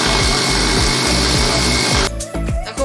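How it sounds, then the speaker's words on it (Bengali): Kitchen mixer grinder whirring loudly as it blends ginger, onion and four chilies into a paste, a steady rhythmic churn that changes tone and cuts out toward the end. "আমি মিক্সিতে এটা পেস্ট করে নিচ্ছি।"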